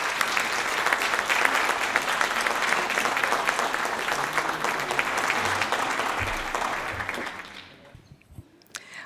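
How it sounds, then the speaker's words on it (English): Warm applause from a lecture audience welcoming a speaker at a South Asian art series event, steady dense clapping from many hands for about seven seconds before tapering off into quiet. "Let's welcome her with a round of applause."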